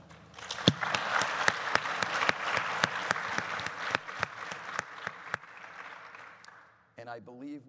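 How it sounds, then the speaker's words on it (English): A conference audience applauds a panel of options entrepreneurs, a long sustained round of claps with sharp individual hits standing out, before it stops and a voice begins speaking. "I would like all of us to really give a great round of applause to these three gentlemen"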